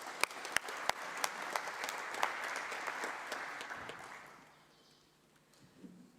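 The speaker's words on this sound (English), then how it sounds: "give her a warm round of applause" Audience applause for a speaker taking the stage at a strategic dialogue event, broad clapping that holds steady for about four seconds, then fades out to near silence.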